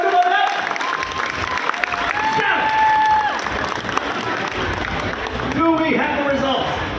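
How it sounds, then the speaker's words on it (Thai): Crowd applause and cheering for athletes at a donut-eating competition in Thailand, a dense, sustained roar of clapping and voices with a continuous, busy texture throughout. "ขอเสียงปรบมือให้กับนักกีฬาไทยและนักกีฬาสากลทุกคนนะครับ"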